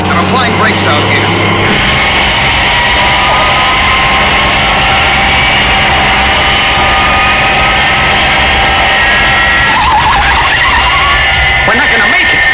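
A big aircraft braking hard on a runway, a long loud screeching skid over a heavy engine roar that holds for the whole stretch, with a voice talking over it.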